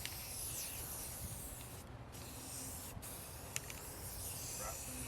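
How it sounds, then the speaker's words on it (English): A can of white Rust-Oleum spray paint hisses in a long continuous burst close by, with a couple of brief pauses and faint clicks. "I'll take some white spray paint."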